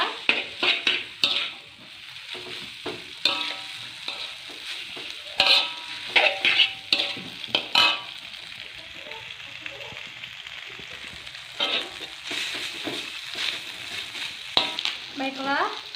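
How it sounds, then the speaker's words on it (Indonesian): Boiled noodles stirred in a pan for mi gulung, sizzling and frying with intermittent scrapes and clatters of a utensil against the pan, while a voice talks at times. "Mie yang sudah direbus. Semuanya. Kita aduk sampai rata."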